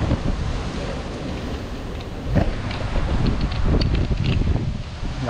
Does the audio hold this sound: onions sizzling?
no